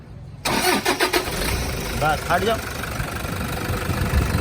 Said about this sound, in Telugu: ఒకసారి ఇంజన్ సౌండ్ చూపిస్తా మీకు